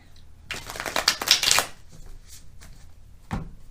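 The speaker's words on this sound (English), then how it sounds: "One more shuffle, we'll cut, we'll deal," Cards riffle in a quick burst of rapid fluttering clicks, then a few softer taps and a single knock as the deck settles.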